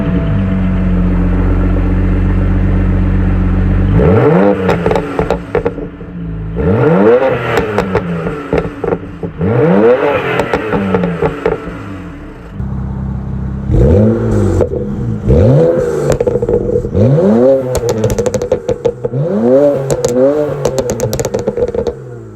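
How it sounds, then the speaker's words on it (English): A BMW N54 engine with catless downpipes, stock exhaust and a Stage 2+ tune revs repeatedly, each blip rising sharply then falling back to a rumbling idle, loud and close with a raspy exhaust note. "catless downpipes, stock exhaust"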